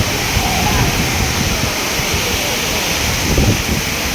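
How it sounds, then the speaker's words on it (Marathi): Waterfall at the Karla caves near Pune, a steady broadband rush of falling water with wind buffeting the microphone, continuous and fairly loud throughout. "आणि हा असा धबधबा."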